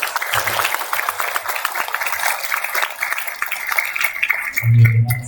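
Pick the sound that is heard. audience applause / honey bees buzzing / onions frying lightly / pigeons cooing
audience applause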